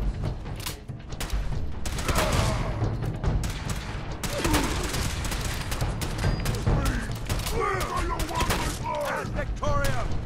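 Gunfire during a Fallout 4 firefight, dense rapid bursts of shots and booms layered with mechanical clatter, continuous and loud for ten seconds, with voices shouting and talking over it.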